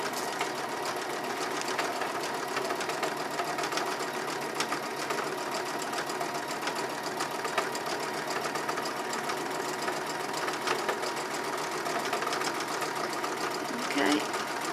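A sewing machine stitches a cloth pad in a fast, steady mechanical chatter, close and continuous, with a voice talking over it.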